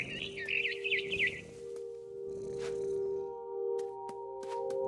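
Birds chirp in the video game What Remains of Edith Finch, high twittering calls in a quick burst near the start, then sparse sharp tweets over a steady low ambient hum.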